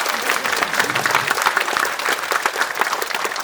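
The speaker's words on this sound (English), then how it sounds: "Yes, you can clap." Audience applause at a London event, a dense steady patter of many hands clapping, loud and sustained throughout.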